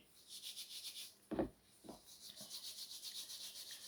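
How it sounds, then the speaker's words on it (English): Salt is rubbed deep into meat by hand, giving faint, close-up rubbing and scraping strokes with a couple of firmer bursts against quiet background hiss. "Take some salt, and you start to rub it good, rub it deep in."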